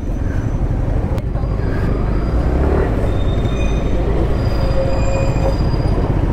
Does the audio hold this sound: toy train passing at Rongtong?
yes